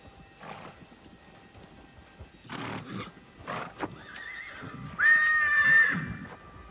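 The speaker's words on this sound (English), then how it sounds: "More confrontation between stallions." Wild brumby stallions confront each other at a waterhole, with snorts and scuffling hooves followed by a loud, shrill whinny near the end, heard fairly close.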